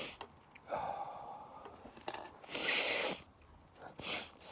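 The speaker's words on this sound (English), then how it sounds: "No, I'm sniffing" A person sniffs repeatedly through the nose in short, close, breathy bursts with brief pauses between them, with no talking.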